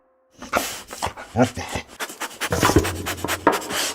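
A hunting dog searching rocks for mongoose in Tanzania pants rapidly and huffs in quick uneven bursts, close and loud, with scuffing and rubbing sounds mixed in.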